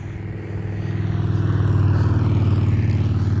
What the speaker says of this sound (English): Sorry if you hear the background cars.